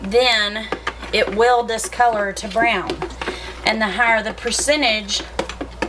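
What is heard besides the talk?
No distinct noise like a dog, phone or traffic.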